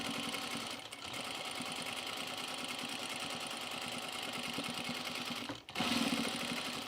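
A sewing machine hums continuously and close by while sewing single-fold binding onto a cropped jacket, with two brief dips where the stitching pauses and resumes.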